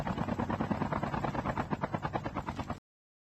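A helicopter in the Call of Duty Mobile video game lifts off with loud, rapid rotor chop pulsing steadily for almost three seconds, then stops abruptly into silence.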